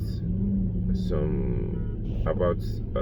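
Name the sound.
Mercedes-Benz ML W164 car being driven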